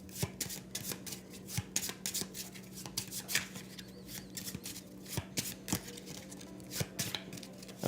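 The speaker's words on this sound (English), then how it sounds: "these cards need shuffled and put back on top." Board game cards being shuffled, giving repeated crisp riffling bursts and snaps at a steady pace over a faint constant hum, close and fairly quiet, with no talking.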